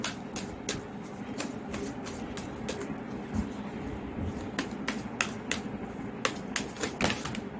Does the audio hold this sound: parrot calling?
no